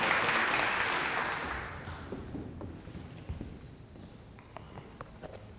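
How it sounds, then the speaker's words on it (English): Audience round of applause for a speaker at a historical society lunch talk. It is fairly loud at first, then thins out over a few seconds into scattered claps and small thumps. "Can we have a round of applause for Clay?"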